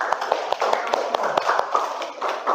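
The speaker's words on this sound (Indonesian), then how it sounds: "tepuk tangan untuk kita semua" Applause from students in a classroom at the close of a physics lesson: a steady patter of many hands clapping, moderately close, with sharper individual claps and faint voices mixed in.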